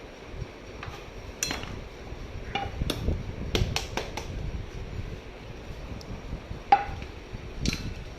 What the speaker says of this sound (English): now I'm gonna demold the cake on the chopping board actually